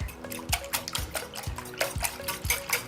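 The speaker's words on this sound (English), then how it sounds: "Give that a good whisk." A whisk beats eggs, orange juice, orange zest and orange liqueur in a bowl, making rapid, rhythmic liquid sloshing and clicking strokes, close and steady, with no talking.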